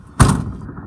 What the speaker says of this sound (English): the door's hanging a little bit, doesn't close properly